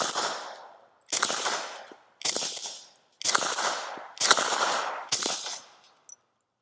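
A DUSK19 handgun on a Glock 19 frame fires 115 grain rounds, six loud sharp reports in quick succession with short echoing tails, each shot spaced about a second apart.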